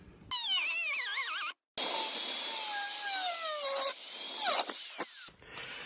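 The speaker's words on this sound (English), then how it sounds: "we're gonna go grab a grinder and start cutting this out" Angle grinder cutting the rusty floor pan out of a Jeep XJ, a loud close whine that wavers and bends in pitch as the disc bites into the sheet metal, stopping briefly before cutting on alone.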